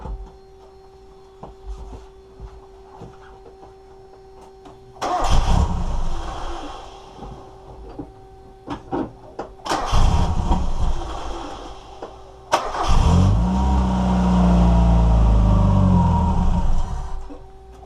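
A Mazda Miata engine with a bad flowmeter tune cranks and catches three times, each start a loud burst of rough, uneven running with low chugging, set against a quiet background with faint clicks.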